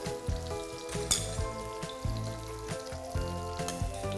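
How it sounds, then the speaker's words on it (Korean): A napa cabbage pancake fries in an oiled frying pan, giving a continuous close sizzle broken by frequent small crackles and pops, with no talking. "자글자글, 지글지글 우리 배추전이 맛있게 지져지고 있는데요."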